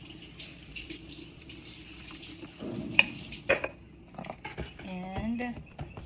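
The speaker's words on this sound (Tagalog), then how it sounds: "Unya batangan akong tubig." Water is poured and splashed into a kitchen container while making a green smoothie, with clinks of utensils and dishes close by and a voice speaking briefly near the end.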